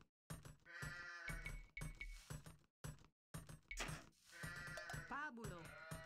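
Sheep bleating in the video game Age of Empires II, several short, bright bleats in quick irregular succession, close and clear, with a player's voice heard too.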